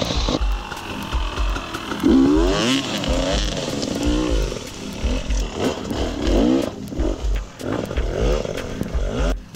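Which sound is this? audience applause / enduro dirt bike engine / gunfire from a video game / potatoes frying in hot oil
enduro dirt bike engine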